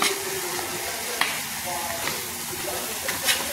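Broccoli florets sizzle steadily in a hot wok while a utensil stirs and scrapes, with occasional clinks and a voice in the background.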